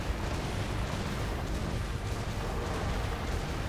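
Gunner weapon cannon firing in the Wild Hearts video game, a dense, loud roaring blast that holds steady and unbroken for several seconds with no voices over it.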